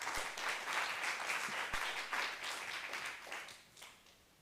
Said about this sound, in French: On applaudit encore, s'il vous plaît.